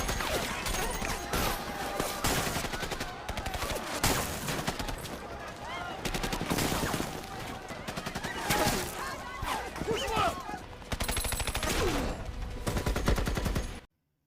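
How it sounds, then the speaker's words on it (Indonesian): Dense, continuous gunfire crackles throughout a film shootout with drug cartel members, with rapid bursts and scattered single shots under shouting voices, ending abruptly. "Akhirnya, di sini tembak-menembak pun tidak bisa dihindarkan."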